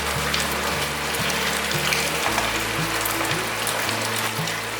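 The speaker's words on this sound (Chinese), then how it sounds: "大略翻炒一下" King oyster mushrooms and tomato stir-frying in a wok give a steady, close sizzle with soft wet bubbling and low clatter, the texture shifting partway through as the food is tossed.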